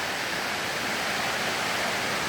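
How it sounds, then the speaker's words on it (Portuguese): A steep waterfall in Brazilian countryside, a dense, steady roar of rushing water heard up close, loud and continuous with nothing else audible. "Cachoeira muito linda, mas muito perigosa."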